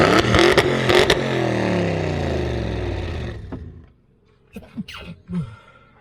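A 700 horsepower Audi RS7 revs hard as it drives off, a loud rising and falling engine roar up close that fades away, followed by a sneeze and brief talk.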